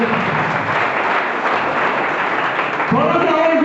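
An audience in a seated hall gives applause, a steady wash of clapping that continues throughout, with a voice speaking over it near the end.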